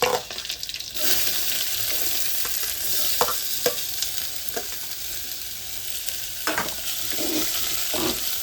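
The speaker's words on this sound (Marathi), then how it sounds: "त्यानंतर आपण यात कांदा टाकून घेऊया।" Onion, cumin and green chili sizzling and frying in a pan for dal palak, with a steady close crackle and several sharp stirring scrapes of a spoon against the pan.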